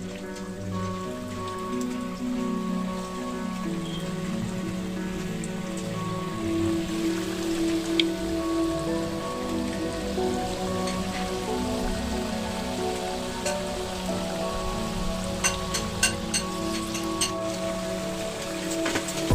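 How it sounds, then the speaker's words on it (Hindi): Onion pakoras frying in hot oil, a steady dense crackle and sizzle like rain that continues alone throughout at moderate loudness. "तेल गर्म हो गए, मैं इसमें डालूंगी पकौड़े।"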